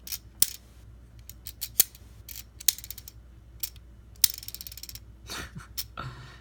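A Power Rangers Ninja Steel Tusk Zord toy turning its tornado twist mechanism: a run of crisp plastic ratcheting clicks, irregular and close, separated by quiet gaps, with a brief rougher whir at the end.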